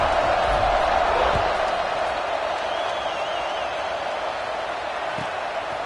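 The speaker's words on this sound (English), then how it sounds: "this crowd is buzzing after that last score" A packed stadium crowd at an LSU college football game keeps up a loud, continuous buzz of cheering and chatter, broken by a few scattered thumps.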